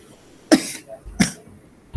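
Two sharp coughs about half a second apart, close and fairly loud, from a lecturer with a cough in a classroom, quiet in between.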